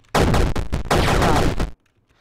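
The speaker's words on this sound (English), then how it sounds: "this is like a machine gun" Rapid automatic gunfire from a machine gun in the pixel arcade game Super Crate Box, two dense bursts of rattling shots separated by a brief gap, loud and close, then cut off to silence.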